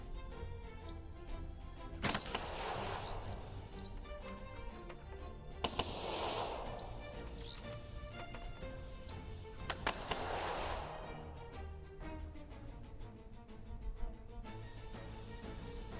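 Gunfire in the hex-based squad tactics game Second Front: three separate sharp bursts of shots, each followed by a noisy crackling blast, spaced several seconds apart over a quiet background hum.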